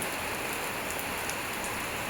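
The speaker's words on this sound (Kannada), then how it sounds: "ಫುಲ್ ಅಂದರೆ ಫುಲ್ ಜೋರು ಮಳೆ" Heavy rain pours steadily over a village, a dense continuous hiss with fine drop patter on surfaces and no voices, close and even throughout.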